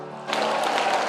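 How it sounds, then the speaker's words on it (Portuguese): A church congregation breaking into applause, broad clapping rising abruptly after a brief held tone and continuing steadily and fairly loud to the end. "Só os vencedores começam a aplaudir dando glória"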